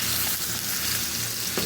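Food frying in hot oil in a pan, a steady dense crackling sizzle that holds at an even loudness throughout, close and alone with no voices.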